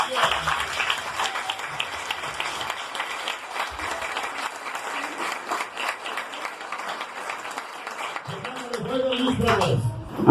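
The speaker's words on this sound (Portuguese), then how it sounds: "Pode bater palmas aqui para o Bispo." Audience applause at a lecture fills the room with dense, steady clapping for about ten seconds, and a voice and low tones rise near the end.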